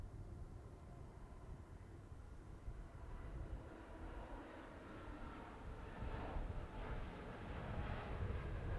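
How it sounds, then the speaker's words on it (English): A Singapore Airlines airliner heard far off at a planespotting spot, a low, broad, faint engine rumble that slowly swells louder toward the end, with no voices. "I can just hear the Singapore Airlines in the distance"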